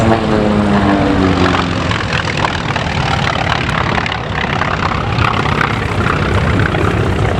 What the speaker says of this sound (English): Here comes the Wildcat at very high speed.